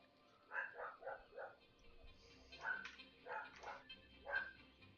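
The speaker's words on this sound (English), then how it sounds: "I guarantee you guys can hear my dog right now, with her very particular type of bark." A dog barking indoors with a distinctive, particular bark: about seven sharp, moderately loud barks in quick uneven bursts, some doubled, against a quiet background.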